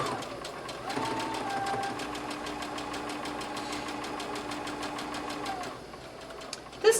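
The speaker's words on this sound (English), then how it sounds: "we're going to stitch it down with a straight stitch" A sewing machine runs a straight stitch along a pressed, pinned rolled hem. The needle taps in a fast, even rhythm at moderate loudness for about six seconds, then stops.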